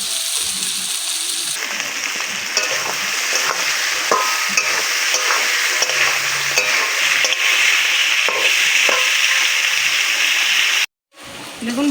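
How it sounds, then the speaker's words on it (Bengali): Carrots fry in a pan with a loud, continuous hiss of oil and frequent scraping stirs, near and busy throughout, cutting off abruptly just before the end. "এখন আমি গাজরটাকে ভেজে নেব।"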